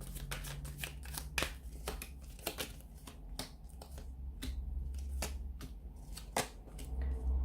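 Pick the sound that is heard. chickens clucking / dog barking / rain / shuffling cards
shuffling cards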